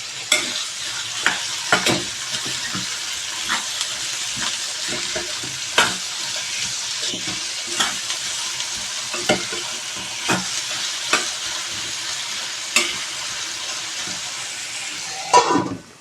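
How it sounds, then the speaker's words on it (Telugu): Onions fry on a low flame in a pan for a baby potato kurma, a steady soft sizzle broken by repeated sharp scraping clicks of a spoon stirring, close and continuous with no talking. "లో ఫ్లేమ్లో పెట్టేసుకుని చక్కగా ఆనియన్ అన్నది మెత్తగా మగ్గే వరకు మగ్గనివ్వాలి"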